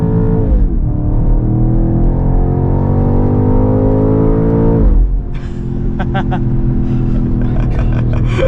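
A 2024 BMW X6 M Competition drives a cool-down lap on track, its engine holding a loud, steady drone that swells and then eases as the gears shift, with cabin rattles and knocks close by.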